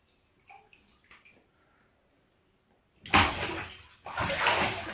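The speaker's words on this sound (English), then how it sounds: "You hear him? He's splashing." A baby splashes in a bathtub, dunking his head and body underwater: after a few soft knocks and quiet, two loud bursts of sloshing, splashing water arrive close by.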